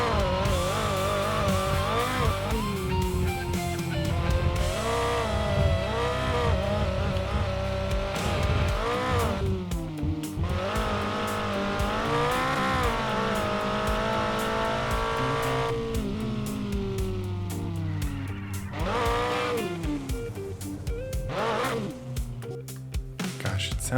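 Video game race car engine revving hard through gear changes, loud and continuous, with tires squealing and skidding on corners over an aggressive rally-style drone.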